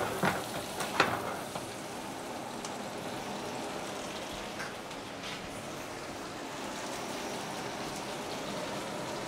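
A salted yellow pollack fillet, cooked on one side in a pan, sizzles in a faint, steady hiss with a couple of soft pops at the start and no talking.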